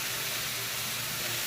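Butter sizzling with mushrooms in a pan, a steady, close, broadband hiss that holds evenly throughout with no talk over it.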